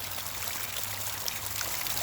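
Water flows and spills over a low-head turbine test culvert in a steady, broadband rushing stream, continuous and fairly close, with no other sounds.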